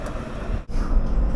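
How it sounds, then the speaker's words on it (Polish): Tram pulling in at a stop in Casablanca, Morocco, a loud, steady low rumble of wheels and motor with a brief dip, then swelling nearer, with no talking. "Przyjechał tramwaj, ale nie po mojej stronie."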